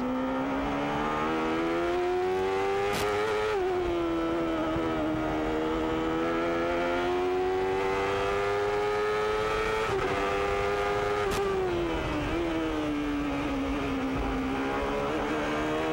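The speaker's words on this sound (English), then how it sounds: "Squeezing every horsepower out of that Chevrolet engine trying to catch Mansell." A 1993 IndyCar race car with a Chevrolet engine at Laguna Seca, a loud sustained high-pitched engine whine rising and falling through gear shifts and throttle changes, heard close and continuous without talk.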